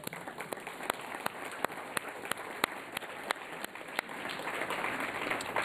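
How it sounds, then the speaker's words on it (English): Audience applause at a Watergate talk honoring Harding's great nephew and his wife: dense, steady clapping from a room of people, with a few sharp individual claps standing out, swelling slightly toward the end. "if you could give them a round of applause"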